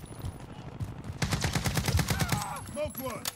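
Rapid automatic gunfire from the shooter game Call of Duty: Warzone, a dense burst of close, loud shots followed by scattered tonal game effects, with brief talk underneath.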